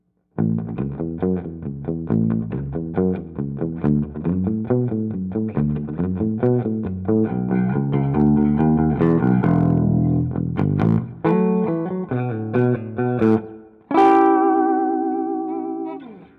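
A low electric guitar tuned a full octave below standard, a six-string bass guitar, plays a driving riff of chords and single notes with effects, ending on a long sustained ringing chord.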